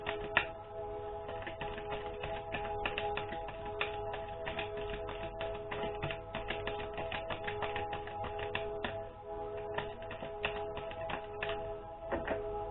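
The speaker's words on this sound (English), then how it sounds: "Again, one more shuffle." Tarot cards are shuffled in quick, continuous soft riffling and tapping, close and fairly quiet, with no talking.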